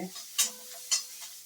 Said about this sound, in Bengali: এই পেঁপেটাও দিয়ে দিলাম, একটু ভাজা ভাজা হচ্ছে